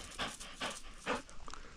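A hunting dog pants close by in three quick, breathy bursts, quiet and evenly spaced, with a softer fourth near the end.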